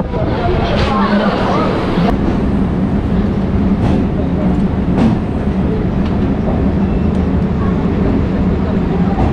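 A local commuter train running from Sealdah to Naihati rumbles loudly and steadily, with a constant low roar and some clattering, and voices are heard in the carriage.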